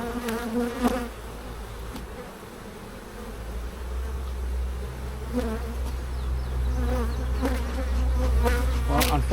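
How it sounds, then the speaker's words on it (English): A dense swarm of bees buzzes steadily up close during a hive inspection, individual insects droning past in swelling waves over a low rumbling background. "And there is a lot of bees."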